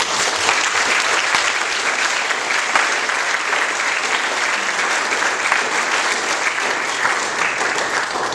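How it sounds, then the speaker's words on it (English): A church congregation at a youth sharing Sunday service claps for the youth group, a loud, continuous, even wash of many hands that holds steady throughout without any speech. "Let's give them a round of applause."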